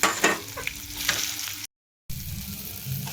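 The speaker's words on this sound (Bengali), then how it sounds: "তো দেখো ভালো করে কষানো হয়ে গেছে আলু পেঁয়াজ।" Potatoes and onions frying in a pan with turmeric, salt and chili powder, giving a steady close sizzle with scraping stir strokes, broken by a short gap of silence before the sizzle resumes.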